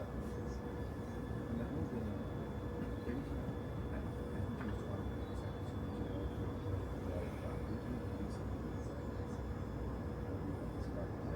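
A London Underground Piccadilly Line train heading to Heathrow rumbles steadily from inside the carriage, with a broad, even roar and faint high tones throughout.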